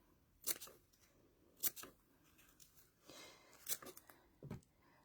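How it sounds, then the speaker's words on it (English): Sharp scissor snips cut fabric around the curves of a bowl cover, three distinct close snips spaced about a second apart plus a softer one near the end, quiet and alone. "Just make some snips up to your sewing line."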